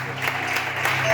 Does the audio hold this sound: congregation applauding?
yes